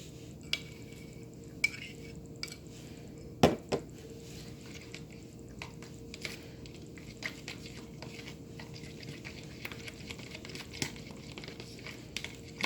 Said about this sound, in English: we're going to mix that with our curry and apple cider vinegar mixture.